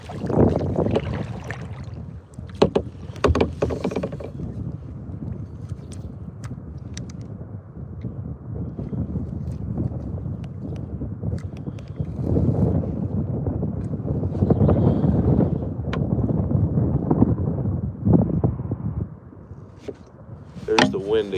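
Gusty wind buffets the microphone on a boat during a fishing trip, rising and falling in strong bursts, with someone speaking in between.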